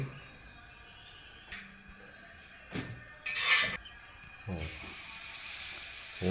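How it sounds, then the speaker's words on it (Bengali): Scattered clanks and short bursts of hiss give way to a steady sizzle of chicken frying in a pan, fairly close. "ভাজা চলতেছে"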